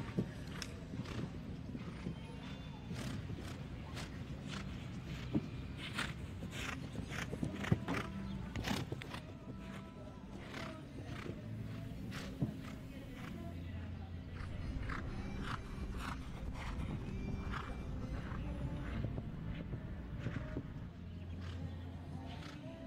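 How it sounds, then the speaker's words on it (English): A show jumping horse's hooves thud in rhythm around an arena at a Longines FEI Jumping World Cup event in León, Mexico, as it takes a triple combination. The hoof beats sound steady and mid-distance over a constant crowd and arena background. "This is a horse that Nicholas has had for a couple of years, and just taking the second part of the triple combination down"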